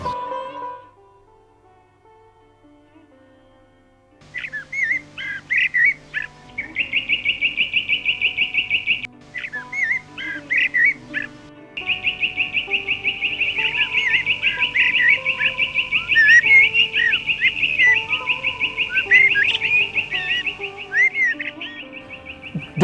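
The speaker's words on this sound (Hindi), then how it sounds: "अब ये दोनों साथ मिलकर गाएंगी और इन दोनों की जुगलबंदी से और आनंद आएगा।" Two bulbul birds sing together in sustained, high trilling phrases with brief pauses, sounding clear and close against a quiet background.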